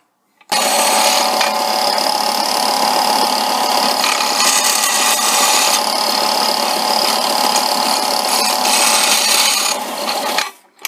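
A small disc sander grinds a metal part for a Ford Model R axle, fed against the wheel with an aluminum plate: a loud, steady abrasive whir and rasp running unbroken for about ten seconds, then winding down.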